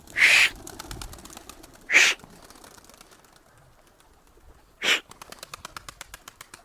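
Van pigeons burst into flight on release, three loud separate flurries of flapping wings close by, followed by a quick rhythmic wing clatter fading out, no talk.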